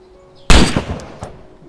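A single loud, close gunshot goes off in the video game DayZ, with a sharp crack and a decaying rumble, then a fainter echo about a second later.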